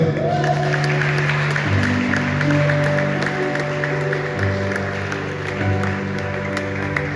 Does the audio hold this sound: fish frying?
no